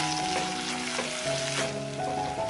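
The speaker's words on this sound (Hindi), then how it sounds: "अब मैं इसमें 1 चम्मच जिंजर गार्लिक पेस्ट डालूंगी, यानी कि अदरक लहसुन का पेस्ट, और इसे भी हम प्याज के साथ 2 मिनट फ्राई करेंगे।" Ginger garlic paste frying with onions in a pan on medium flame for a fish curry, a steady close sizzle with faint stirring scrapes, alone without talk.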